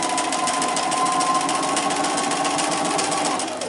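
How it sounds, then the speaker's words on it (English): Sewing machine stitching quilt fabric pieces together with gray thread, a steady, fast continuous whir with a rapid needle patter running loud and close throughout, easing off at the very end. "you need to be careful when you're sewing these together"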